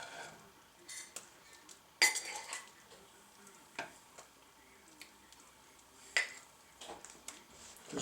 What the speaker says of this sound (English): we will dish up a couple of bowls of soup